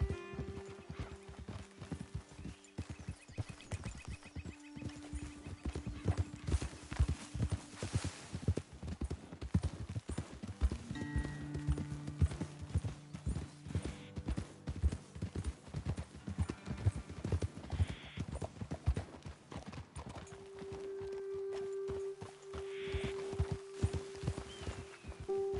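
Horses walking on a trail give steady, close clip-clopping hoofbeats that continue throughout, with occasional tonal whinny-like sounds in the background.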